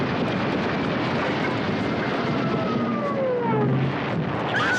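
Japanese Zero fighter planes roar in a dense, continuous drone with falling engine whines sweeping overhead during a TV-show attack, loud and steady with rumbling blasts underneath and no talk.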